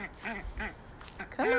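Ducks quack in a few harmonic bursts near a farmyard pen where ducks and geese are kept, loud and close, with short pauses between calls.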